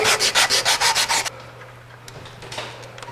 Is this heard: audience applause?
no